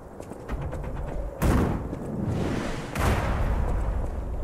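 Two heavy booming blasts about a second and a half apart, each followed by a rumbling roar, like cannon fire in the video game Lies of C over a low background.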